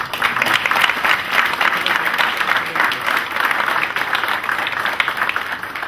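An audience applauds an organizer at a charity event, with dense, sustained clapping from a crowd that stays loud and even throughout.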